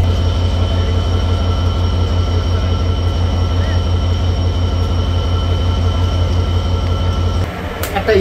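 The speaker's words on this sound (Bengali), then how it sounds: "বিলম্বে ট্রেনটি প্রবেশ করলো সান্তাহার জংশনে" The Titumir Express rolls into Santahar Junction, a loud, steady low engine drone and rolling rumble filling the clip before it drops away near the end, with someone speaking over it.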